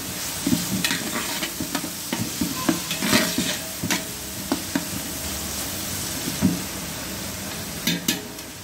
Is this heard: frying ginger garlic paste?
yes